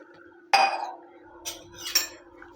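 A metal utensil clinks against a pot while china grass is mixed with water, one sharp knock followed by two lighter scraping taps, with a faint hum underneath.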